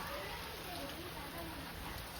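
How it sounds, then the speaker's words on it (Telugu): Heavy rain falls in a steady, dense hiss with no break, close and even throughout. "ఫుల్ వర్షం పడుతుంది చూడండి"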